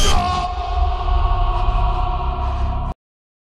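A man screams and bellows in agony inside an X-ray machine in a film scene, one long sustained strained cry that stops abruptly, loud and close with a slight echo.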